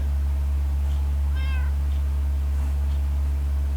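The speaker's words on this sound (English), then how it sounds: "I hear a wither cat." A wither cat from Minecraft's FTB Infinity modpack gives a single short meow at middle distance, faint under a steady loud low hum and game ambience.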